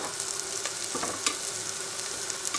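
Tomato paste and onions fry in a pan with a continuous close sizzle, broken by a few faint stirring clicks, moderately quiet and without talk.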